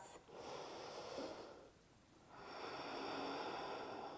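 Slow, deep yoga breathing, a long audible inhale followed by a pause and another drawn-out breath, faint and close with soft airy hiss.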